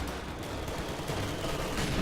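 An MG42 machine gun in a video game firing at infantry squads, a sustained dense rattle of rapid shots that runs unbroken and loud throughout.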